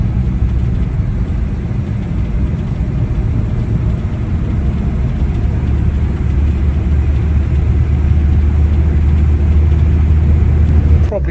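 A restored 1968 Morris Traveller driving along the road: a loud, steady engine and road rumble drones evenly throughout, with no talk.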